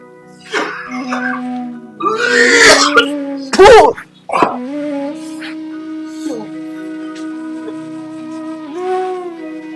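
A few harsh coughing bursts break through a strained, moaning voice and nearby talk, with one especially loud fit in the middle.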